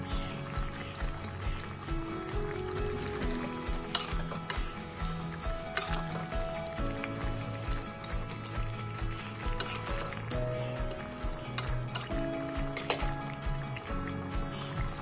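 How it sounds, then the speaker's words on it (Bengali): Fried koi fish go into a simmering curry with cauliflower, producing a steady close sizzle with intermittent stirring and scraping in the pan, no talking. "এখন ভাজা করে রাখা কই মাছগুলো এক এক করে এতে দিয়ে দিচ্ছি।"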